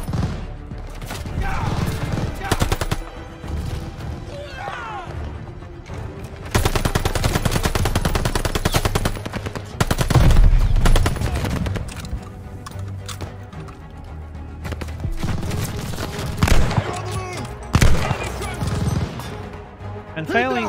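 Rapid machine gun fire and scattered gunshots ring out through the Call of Duty: Vanguard D-Day mission, loud and dense in bursts, with someone talking over the battle.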